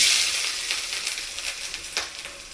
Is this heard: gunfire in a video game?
no